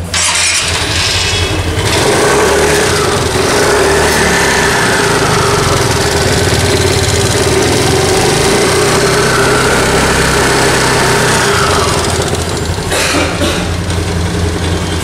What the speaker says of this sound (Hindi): इसका इंजन का साउंड सुनिए पहले,